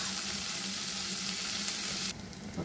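Ridge gourd and spring onions frying in a pan give a steady, close hiss and sizzle that drops abruptly to a softer crackle near the end.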